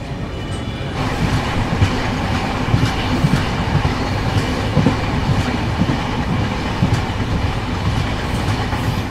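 A passenger train pulls into platform 1 at Bardhaman Junction, a loud, steady rolling rumble with rhythmic wheel clatter throughout and no voices.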